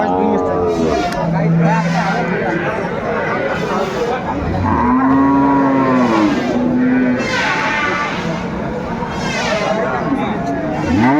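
Cows with calves moo repeatedly at the Aftabganj cattle market, loud and close, in long drawn-out calls over a busy crowd of people talking.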